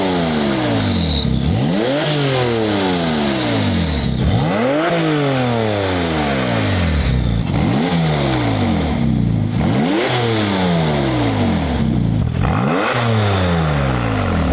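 A Porsche fitted with a Valvetronic exhaust revs repeatedly, loud and close, each rise in pitch followed by a drop as the throttle is blipped in a steady rhythm, with raspy exhaust crackle and no talking.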